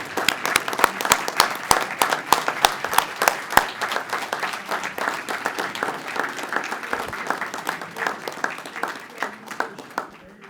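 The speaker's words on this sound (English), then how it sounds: "Let's give them a round of applause" Sustained applause from a seated audience at a police community awards ceremony, steady sharp claps filling the room for about ten seconds before thinning out near the end.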